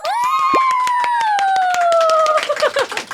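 Fast, steady rhythmic clapping, close and loud, under a long sustained shouted cheer that fades out near the end.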